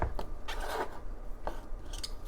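Raw beets and carrots are sliced into pieces with a few short, close cutting and scraping strokes, with brief pauses between them and no talk.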